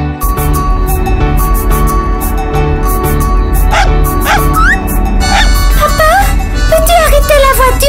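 A puppy on a road yips and barks in short bursts over a loud, continuous music bed, its cries rising and whimpering toward the end.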